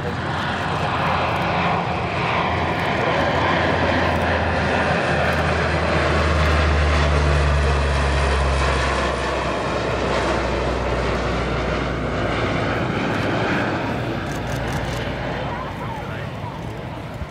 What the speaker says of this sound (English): This C-130 flying with its door open.